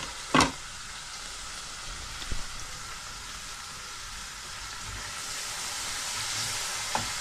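Kakia fish slid into hot, already-fried spice mix for curry, giving a steady soft sizzle with a sharp clatter at the start and a couple of faint knocks later.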